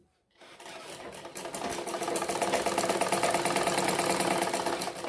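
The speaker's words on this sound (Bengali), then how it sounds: "ডাবল করে সেলাই করে দেব একটু দূরে দুই সুতা দূরে আর একটা সেলাই করছি" An electric sewing machine runs a double line of stitching on the front panel of a bra-cut blouse, starting after a brief silence and settling into a fast, steady mechanical whir and rattle, close and continuous.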